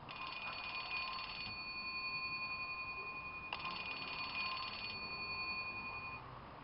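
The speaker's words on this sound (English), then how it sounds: "Okay, who hasn't heard that ringtone like a million times?" An annoying cell phone ringtone plays loudly and alone, a bright electronic ringing melody of repeated tones in two bursts with a short gap between them.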